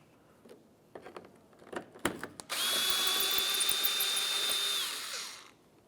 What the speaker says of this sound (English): We're going to remove all of the mounting hardware, starting with the two 10mm headed mounting bolts.